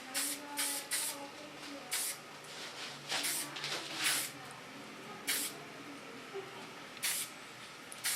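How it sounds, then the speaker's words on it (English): Goldwell hairspray goes onto a woman's hair during a salon makeover in about ten short, crisp hissing bursts in an irregular rhythm over a quiet room. "Now I just play with my hairspray."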